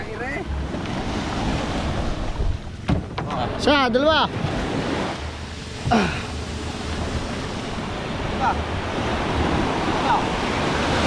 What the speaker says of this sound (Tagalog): Medyo malalaki ang alon.